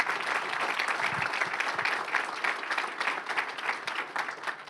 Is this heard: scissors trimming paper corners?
no